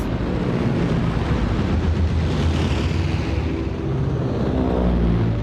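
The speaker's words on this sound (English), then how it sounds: "Japanese planes." Japanese warplanes flying overhead in wartime, a steady broadband roar of aircraft engines with wind noise that holds loud and continuous throughout, with no voices.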